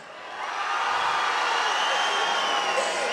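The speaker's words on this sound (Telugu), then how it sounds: "Big round of applause." A college festival audience breaks into sustained applause and cheering for a visiting guest; the clapping swells within the first half second, then holds steady and dense, with no voices standing out.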